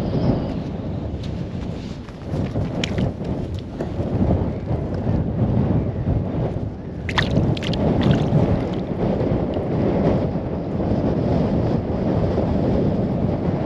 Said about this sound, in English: there's just like huge wind came out of nowhere